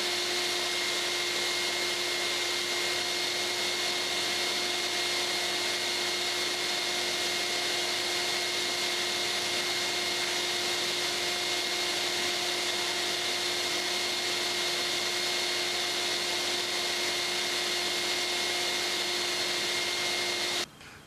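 Steady, loud whooshing roar of a vacuum pulling air through a homemade cyclone dust separator built from a street cone on an airtight bucket, with a constant whine running throughout and cutting off abruptly at the end.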